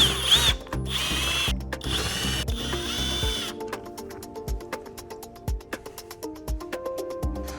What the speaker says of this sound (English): let's do step 1 and unscrew the panel